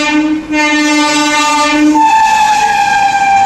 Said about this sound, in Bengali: তার পাশেই ঠিক ক্রস করছে জনশতাব্দী এক্সপ্রেস